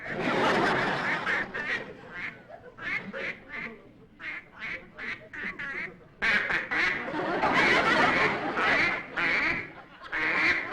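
Loud, repeated quacking from a nearby duck in rapid bursts, with a short pause midway before the noisy quacks resume.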